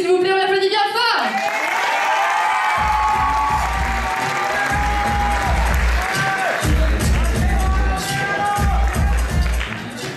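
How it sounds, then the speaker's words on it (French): A theatre audience applauds and cheers a contestant at an evening talent show, with loud sustained clapping, whoops and rhythmic stamping filling the hall after an announcer's voice at the start. "on va commencer par la candidate numéro 1, s'il vous plaît, on l'applaudit bien fort."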